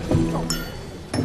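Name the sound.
glass dropping to the floor at a banquet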